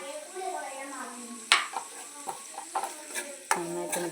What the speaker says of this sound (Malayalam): മഞ്ഞൾപ്പൊടി നന്നായിട്ട് മിക്സ് ചെയ്യാം മുളക് പൊടി